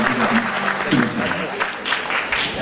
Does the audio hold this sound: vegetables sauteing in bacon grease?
no